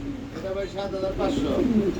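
Domestic pigeons at a breeding farm coo softly and close by in short, throaty phrases. Someone talks over them throughout.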